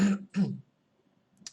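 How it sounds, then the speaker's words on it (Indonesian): Two short throat-clearing coughs in quick succession, close and fairly loud, followed by near silence and a faint brief sound at the end. "agak sedikit batuk"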